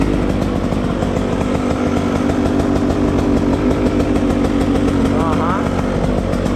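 A KTM motorcycle engine runs at a steady, rapid idle just after washing, loud and close with an even mechanical chatter throughout; a voice speaks briefly over it.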